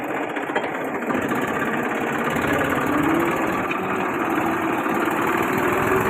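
A tractor engine idling nearby, a loud, steady, continuous rumble with a faint mechanical rattle that holds evenly from start to finish.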